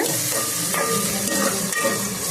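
Onions fry in a pan for a prawn curry with a loud, continuous sizzle and soft stirring underneath, without letup from start to end.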